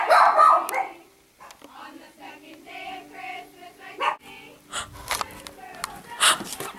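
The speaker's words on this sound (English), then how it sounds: "sorry for my dogs in the background" A few short dog barks and yips in the background, mixed with people talking and other household noise.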